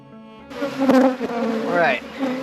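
Honeybees hum and buzz loudly at an opened beehive in Ventura County in spring, a dense, wavering drone close by that swells and dips as individual bees pass near.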